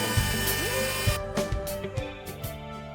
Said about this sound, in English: That's a notch out to fit the impact driver so I can fasten the screw into the stud.